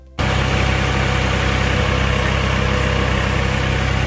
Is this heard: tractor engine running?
yes